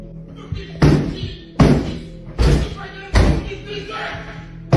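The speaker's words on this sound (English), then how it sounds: "The banging intensifies, the door budges slightly" Heavy banging sounds on a locked door: five loud, evenly spaced thuds about a second apart, each a sharp impact with a short ringing decay, close and booming against a low background hum.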